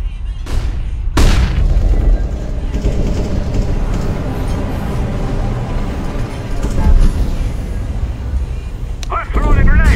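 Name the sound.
flashbang grenade exploding in video game CS:GO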